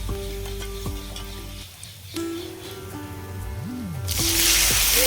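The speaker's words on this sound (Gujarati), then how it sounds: "ઘી જે આપણું ગરમ થઈ ગયું છે એમાંથી આપણે અડધી ચમચી જેટલી રાઈ ઉમેરી દેશું રાઈ ફૂટી જાય" Mustard seeds, cumin, cloves, cinnamon, bay leaf and curry leaves sizzling in hot ghee for Gujarati kadhi: a low crackle under steady tonal humming, swelling into a loud, bright hiss toward the end.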